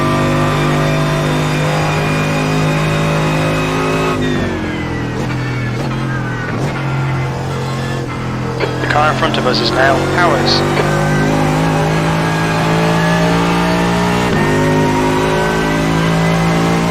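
A Mercedes-AMG GT3 race car howls around the Sebring circuit, its engine pitch rising and falling through gear changes and braking. Radio voices talk over the loud, close engine noise.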